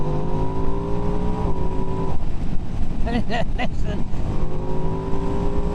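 A Ducati Streetfighter V2S motorcycle is ridden with its engine droning loud and close under heavy wind noise, the pitch climbing and dropping through gear changes, with a brief spoken word.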